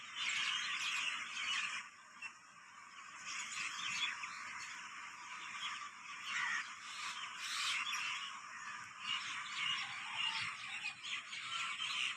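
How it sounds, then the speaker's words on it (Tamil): Outdoor birds sing in a dense, continuous chorus of overlapping chirps and trills, steady and moderately distant throughout with no talking. "பறவைகளோட இசை கச்சேரி எல்லாம் எப்படி இருக்குன்னு சொல்லுங்கள்"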